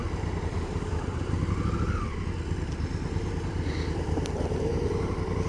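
A KTM motorcycle rides along an icy wet road, its engine a steady, continuous drone heard from a following rider with strong wind and road rumble throughout.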